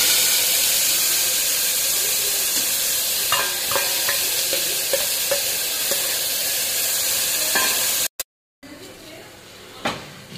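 Onion and garlic frying in spiced oil for a jackfruit curry: steady loud sizzle with scattered stirring clicks and scrapes, a brief dropout near the end, then sizzling resumes with a spoon knock.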